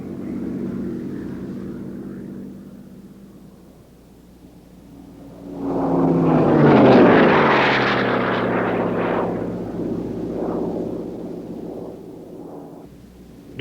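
Ed Wiener's zebra-striped P-51 Mustang racing aircraft flies past: a droning propeller engine swells into a loud, close roar with a falling pitch as it passes, then fades into a steady distant drone.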